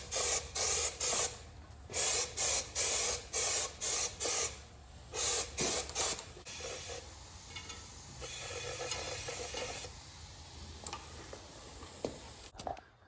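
A powder coating spray gun shoots powder onto sandblasted parts, starting as a run of about ten short, even hissing bursts close to the mic, then settling into a longer, steadier spray.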